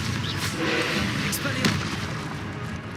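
Blasting spell Confringo cast in Hogwarts Legacy, a couple of sharp bursting impacts over a dense rumbling battle background, with a voice audible through the mix.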